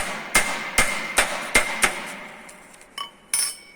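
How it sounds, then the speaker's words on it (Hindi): A cross-pein hammer strikes sheet metal in a workshop, five sharp ringing blows at a steady pace, then a pause and a few lighter taps, close and loud. "यहाँ पे हमने यूज किया है क्रॉस पिन हैमर, हथौड़ा हम बोलेंगे उसको, इससे हम हैमरिंग करेंगे।"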